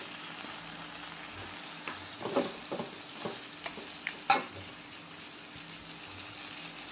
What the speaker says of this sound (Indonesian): setelah bumbunya harum, kita masukkan udang ya